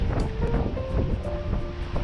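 A boat named Matilda cruises on the Saronic Gulf in Greece on a calm day, with a steady low hum under continuous wind and water rush and the soft slap of passing waves.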